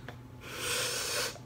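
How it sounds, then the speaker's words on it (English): One long, close, audible sniff, a breathy inhale of about a second, with no talk. "I sniff first."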